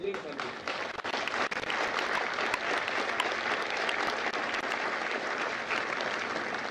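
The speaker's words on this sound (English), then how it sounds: "please give a round of applause to the families of Lima Company" A large audience at a Marine Corps Recruit Depot San Diego graduation applauds the families of Lima Company, with dense, loud, sustained clapping and crowd noise, sharp claps standing out throughout.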